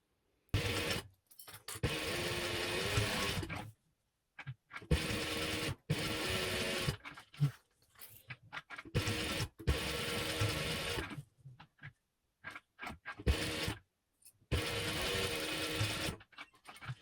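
Industrial sewing machine stitching the pockets of a fabric travel wallet with interfaced panels, running in repeated bursts of steady whirring separated by short pauses, loud and close with no talking.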